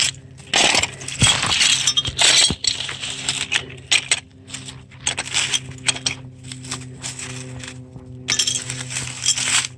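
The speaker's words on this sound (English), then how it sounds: "Glass, I'm going to put it in this pan." Broken glass shards dug up at an old camp site clink and scrape as they are dropped into a pan, a busy close run of sharp tinkling hits with short pauses and no speech.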